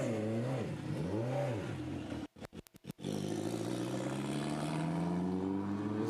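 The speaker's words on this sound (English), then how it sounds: "that's one of those things about a turbo car. It's nice and tame as it leaves" Saleen Cup turbo race car pulling away onto a track during qualifying in Portland, a steady engine drone rising and falling in pitch, briefly cut by a few abrupt dropouts before the tone climbs again.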